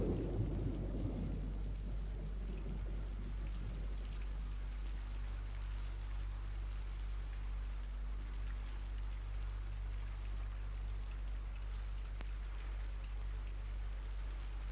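Rain falls steadily with thunder, opening on a rolling rumble that fades into a constant low roar and soft hiss of rainfall, quiet and continuous with no speech.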